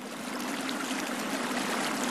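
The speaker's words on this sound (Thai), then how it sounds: "หิมะละลายกลายเป็นของเหลวเหมาะสำหรับดื่มและแม่น้ำก็ไหลอย่างเต็มกำลัง" A river swollen with spring snowmelt rushes steadily past, a dense, continuous roar of churning water with no pauses or voices.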